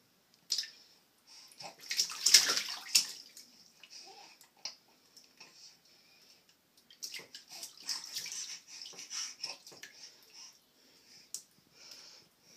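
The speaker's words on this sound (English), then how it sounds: "Is you splashing?" A child splashes in bathtub water, giving a series of close, uneven splashes and drips in short bursts with quiet pauses between them.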